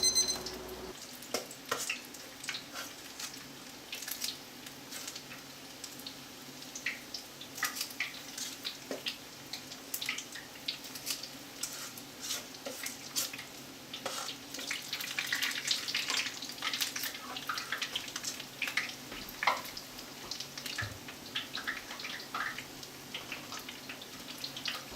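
Hush puppies fry in oil heated to 350 degrees, a steady low sizzle with scattered crackles and pops running throughout at moderate volume, with no talking.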